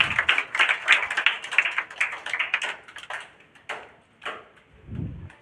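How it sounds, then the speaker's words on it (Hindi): An audience claps at a Bihar Board district topper award ceremony, a dense patter that thins into a few scattered claps and fades toward the end. "ले ताली हो जाए।"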